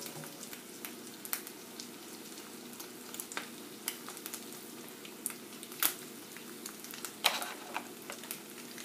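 Eggs fry in a pan until the edges crisp and the yolks cook through, giving a faint, steady sizzle dotted with small pops and crackles.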